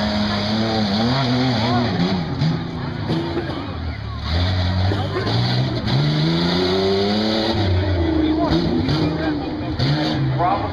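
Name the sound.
racing truck driving at the Buck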